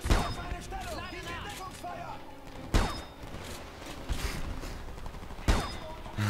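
Gunfire in the video game Homefront: bursts of shots crack out, three sharp heavy blasts spaced a few seconds apart over a busy battle din, with someone talking in German in between.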